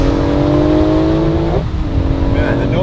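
Twin-turbo Lamborghini engine of about 800 horsepower revs hard and steadily up close, its pitch climbing, dipping briefly near the middle, then rising again.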